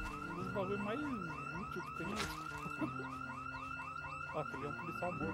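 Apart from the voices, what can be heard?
car alarm going off in the video game Project Z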